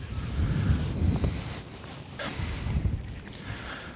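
Wind blowing across a lake on a feeder fishing outing, a broad gusting rush buffeting the microphone, rising and falling over a few seconds with no talk.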